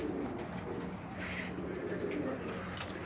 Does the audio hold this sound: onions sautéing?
no